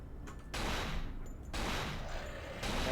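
Gunfire in the video game Cold Fear comes as loud, close bursts of shots in rapid succession, broken by short gaps, forming a noisy cluster of blasts.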